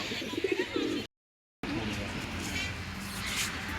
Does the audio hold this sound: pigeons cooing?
yes